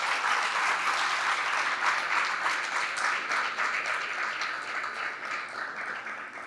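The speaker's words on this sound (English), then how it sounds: "Give everybody one last round of applause because they did amazing." Audience applause at the close of a regional startup pitch competition, steady sustained clapping from a sizeable crowd that fades slightly toward the end, with no talking over it.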